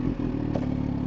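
A motorcycle being ridden just after an oil change, its engine a steady close drone with a brief dip and some clattering, running alone without talk.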